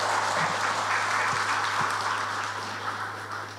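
Audience applause at a PDI Perjuangan party rally in Brebes, Central Java, a broad continuous wash of clapping from a large crowd, fairly loud and easing off slightly toward the end, with a steady low hum beneath.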